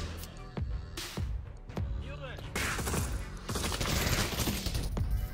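Gunfire in the virtual-reality zombie shooter Pavlov: several sharp, loud shots ring out over dense game noise and background speech, spaced unevenly across the scene.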